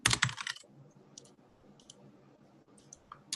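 Keys clatter on a computer keyboard in a quiet room: a quick burst of close, crisp clicks at the start, then a few scattered single taps spaced apart.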